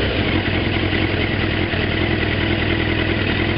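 A 1998 Yamaha FZR600 motorcycle with freshly adjusted carburetors idles close by, a steady, dense mid-pitched engine burble with no revving and no voices.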